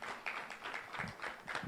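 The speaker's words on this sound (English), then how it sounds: "Continue clapping until they sit down" Audience applause at a live vice-presidential debate for a Kenyan women lawyers' and law society election, a steady dense patter of many hands clapping at a distance, continuous throughout without pause.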